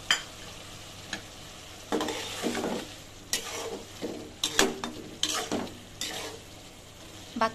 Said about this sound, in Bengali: এই যে টমেটোগুলো দিয়ে নিচ্ছি, দিয়ে সুন্দর করে নেড়ে চেড়ে দিচ্ছি